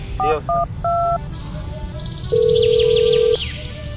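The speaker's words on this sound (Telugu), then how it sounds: "మరి ఫోన్ చేస్తున్నా గణేష్." A phone dials out with a quick run of three short keypad tones, then a long steady tone sounds for about a second. Faint background sound runs throughout.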